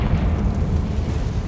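Confringo explosive spell in Hogwarts Legacy, a loud, sustained rumbling blast with heavy low-end boom filling the whole short moment, no voices.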